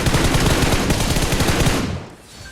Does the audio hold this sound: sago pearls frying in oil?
no